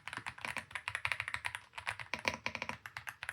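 Close, quick typing on an Epomaker x Aula F75 mechanical keyboard, with rapid, uneven, crisp keystrokes flowing in bursts.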